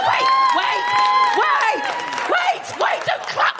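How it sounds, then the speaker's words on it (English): A live comedy audience in London clapping and cheering, a loud sustained wash of applause with whoops, while the comedian shouts over it. "Wait! Don't clap me!"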